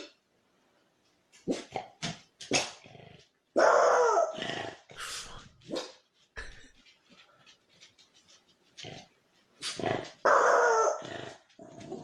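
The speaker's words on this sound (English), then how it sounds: "the dog she is babysitting begins to act strangely, staring down at the hallway while barking" A dog barks, growls and pants indoors toward a hallway in irregular bursts, close by, with short quiet gaps between outbursts.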